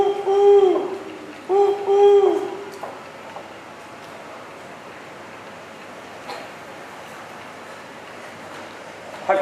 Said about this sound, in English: I heard the owl scream